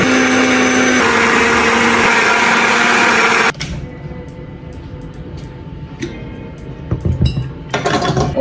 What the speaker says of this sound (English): I always throw everything in the NutriBullet. I blend everything.